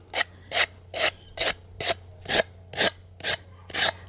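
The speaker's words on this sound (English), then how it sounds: "Do a light sanding." Light hand sanding of splintery wood: nine even rasping strokes in a steady rhythm, close and clear with no voices.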